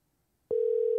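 A single steady telephone tone starts abruptly after half a second of silence and holds loud and unbroken while a call is placed.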